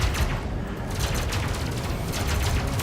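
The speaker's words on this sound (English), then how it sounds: "Blasting a cannon in that range was pure luck." A ship's cannon fires in a space combat game, producing dense, continuous booming blasts and rapid crackling bursts, loud and close with no pauses across the stretch.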